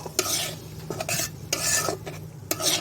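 A utensil stirs egg into noodles in a pan, scraping in several short, separate bursts about a second apart over a low sizzle, close and fairly quiet.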